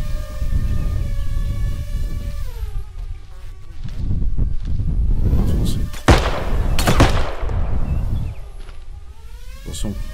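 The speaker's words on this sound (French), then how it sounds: "Ils entendent le coup de feu." Gunfire in a realistic bodycam first-person shooter video game: a couple of sharp, loud shots crack near the middle, over droning tonal game sounds and low rumble.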